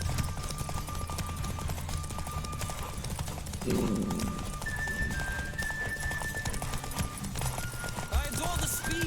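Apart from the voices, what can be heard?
horse galloping in The Witcher video game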